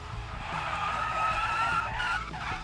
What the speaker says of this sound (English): Oh, there's tire squeal.